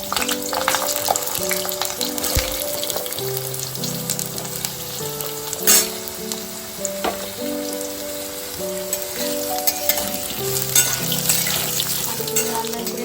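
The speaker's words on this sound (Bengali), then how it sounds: "টুকরো করে কেটে রাখা আলুগুলোকেও আমি একটু লাল করে ভেজে নেব।" Cut potato pieces fry in a pan after a tempering of spices, a dense, steady sizzle and crackle with occasional sharper pops, running throughout beneath background music.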